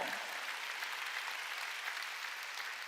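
A church congregation bursts into applause during a Korean sermon, dense and sustained clapping from many people that fills the hall evenly.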